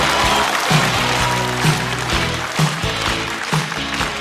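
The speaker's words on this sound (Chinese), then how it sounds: "掌声欢迎小四爷" A studio audience at a stand-up comedy show claps steadily to welcome a comedian to the stage, a dense, continuous round of applause with no pause across the whole stretch.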